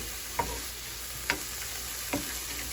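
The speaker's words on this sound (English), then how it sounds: "red peppers, onions and mushrooms. Oh my God! Right in there with the sausage. Yes, sausage juices." Vegan sausage fries in a pan with red peppers, onions and mushrooms, a quiet steady sizzle with three faint sharp clicks spread through the clip, heard alone without talk.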